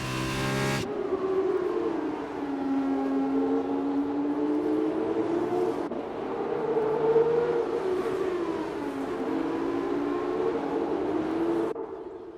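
F2 race car engines in a racing game at a Spanish circuit, a sustained, droning whine that rises and falls in pitch as cars run down a straight, steady and fairly loud with no talk.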